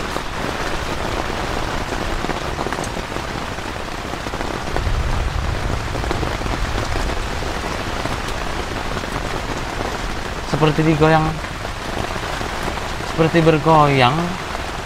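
Heavy rain drums steadily on a camping tent in a downpour, a constant close patter throughout, with people speaking quietly inside and a low rumble partway through.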